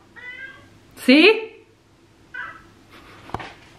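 A cat cries insistently in a home kitchen, giving a few loud, drawn-out meows close by, while someone briefly speaks between them.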